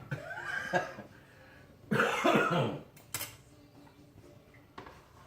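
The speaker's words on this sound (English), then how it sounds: "I've had that cough for quite a while." A person with a long-lasting cough coughs a few times close by, harsh bursts separated by pauses, with a faint clink of dishes.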